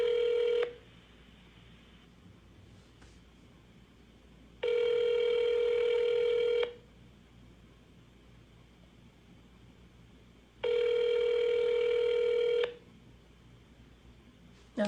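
A telephone ringback tone sounds on a call to a medical triage hotline: three long, evenly spaced tone bursts of about two seconds each, separated by quieter line hiss, with no one speaking.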